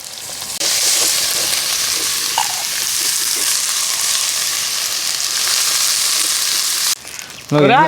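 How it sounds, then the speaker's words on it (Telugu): Ginger garlic paste sizzles loudly in hot oil with well-browned onions for curry, a steady dense frying hiss throughout that cuts off briefly near the end as a voice speaks. "ఎర్రగడ్డలు అయితే బాగా దోరగా వేగిపోయినాయి అల్లం వెల్లుల్లి పేస్ట్ వేసుకుందాం"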